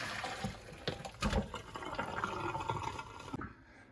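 Water poured off boiled saltfish, a rushing, splashing drain with gurgles that runs steadily and then cuts off abruptly near the end.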